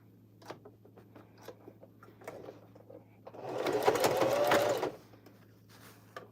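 A sewing machine stitches fabric for a bucket hat along a 3/8-inch seam. A few small clicks come first, then a quick run of stitching lasts about a second and a half before it stops and the faint ticking returns.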